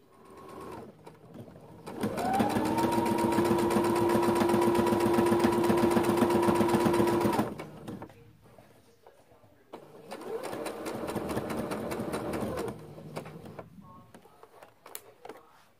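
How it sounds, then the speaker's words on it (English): A sewing machine stitches a neckband onto the front and back pieces of a t-shirt, running in a long steady whir for several seconds, pausing, then whirring again in a second shorter run. "as I sew the neckband onto the front and back pieces"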